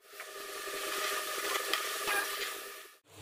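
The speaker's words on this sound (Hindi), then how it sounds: "और हमें इसे कंटिन्यूसली स्टर करते जाना है" Milk with dry fruits is stirred continuously in a pan as it heats toward a boil for rasmalai: a steady close scraping and bubbling hiss that runs unbroken, then cuts off just before the end.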